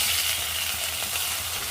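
Stuffed ridge gourd fries in hot oil, giving a steady, dense sizzle that stays even and close throughout with no voices.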